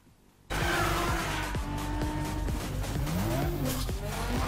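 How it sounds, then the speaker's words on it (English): Cars from a Forza Horizon 2 trailer burst in with loud revving engines, rising and falling gear shifts and screeching tire squeal, close and continuous after a brief quiet start. "But the sound of the cars too, they really nailed it again."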